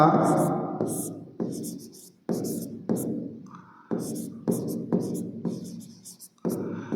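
Chalk or marker strokes on a board during a class 10 maths lesson: a steady series of short, scratchy writing strokes with brief pauses between them, close and clear.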